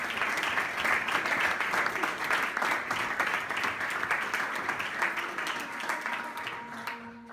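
An audience applauds a singer aboard a tiny floating culture house, with sustained dense clapping at a steady level that thins slightly toward the end.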